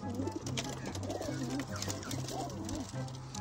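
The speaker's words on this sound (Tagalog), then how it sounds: "Bitawan natin mga kalapatids." Domestic racing pigeons coo steadily and repeatedly, close by, before release for a training toss, over a busy rustling background with faint wingbeats.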